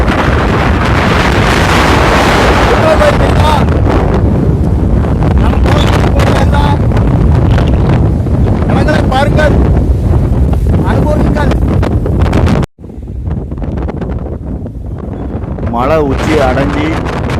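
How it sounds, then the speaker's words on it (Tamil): Strong wind at a mountain viewpoint on the way to Mekkarai Agasthiyar temple roars and buffets the microphone almost continuously, with a brief drop before gusting back; a voice speaks briefly underneath. "காற்று எங்களே தள்ளுது."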